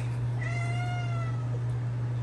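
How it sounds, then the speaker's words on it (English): Cats meow near a reef aquarium, a single drawn-out, wavering meow sounding close and clear over a steady low electrical hum. "Cats meowing at me."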